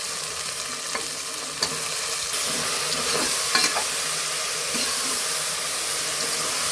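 Washed, chopped mushrooms drop into a hot pan and sizzle steadily and loudly, close up, while a utensil stirs and scrapes them with occasional clinks. Steamy hiss continues throughout with no voices.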